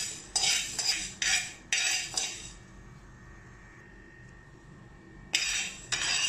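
Rice, fenugreek and black peppercorns dry roasting in an iron kadai rattle and scrape under a ladle in quick bursts, then fall quiet for a few seconds before the scraping resumes, close and without talk.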